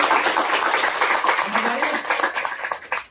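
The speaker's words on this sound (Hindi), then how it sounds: "ताली बजती है" An audience claps during a spiritual discourse, giving a few seconds of close, fairly loud applause that thins into scattered claps toward the end and then cuts off.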